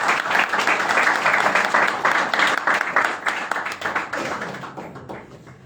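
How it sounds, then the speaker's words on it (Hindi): An audience at a church gathering claps loudly to welcome a guest, with dense, continuous applause close and full at first, then gradually thinning out and fading toward the end. "हम तालियां बजाकर"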